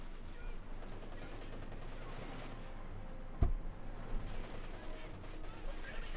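MG-34 machine gun fire in Company of Heroes 2, a distant rattling burst under busy battlefield noise and a commentator's voice, with one sharper crack standing out midway.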